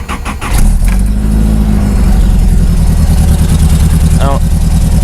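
A 1994 truck engine idling close by with a loud, steady rumble and a bubbly, burbling character, running continuously after a brief start.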